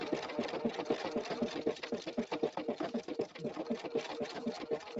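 A Pfaff sewing machine stitches fabric at a steady, rapid rhythmic chatter that runs continuously, close and clear, with no talking.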